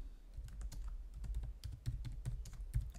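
Rapid typing on a computer keyboard during a Python programming lesson, a steady run of close, crisp key clicks with no voices over it.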